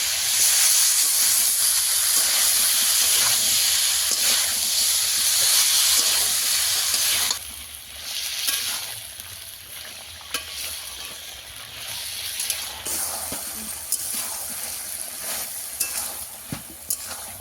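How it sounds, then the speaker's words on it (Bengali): Drumsticks, pumpkin and potato for a vegetarian curry are stir-fried in a pan, with loud steady sizzling at first that then settles lower, broken by the scrape and clack of a spoon stirring; no one speaks. "এবার আমি কিছুক্ষণ সব কিছু একসঙ্গে বেশি করে কষিয়ে নেব।"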